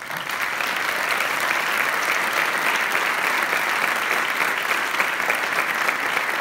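Dense, steady applause from an audience at a medal ceremony in Monóvar, clapping for a pianist and a soprano, conservatory students from Alicante, sustained and even for several seconds with no speech.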